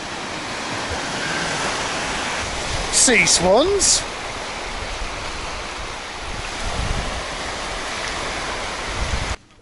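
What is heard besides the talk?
ocean waves coming in at the tip of Latvia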